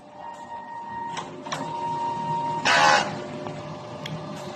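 A DTF printer runs a head heat clean cycle, humming with a steady mechanical whine broken by short clicks and a brief loud whirring burst of the pump or carriage near the end.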